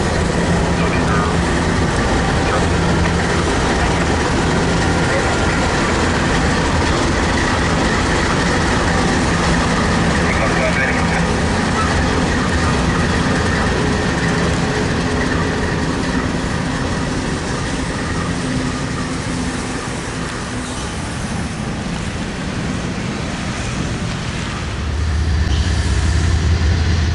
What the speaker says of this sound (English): The first train through after 302 cleared was CP 400, an eastbound manifest train headed for Calgary.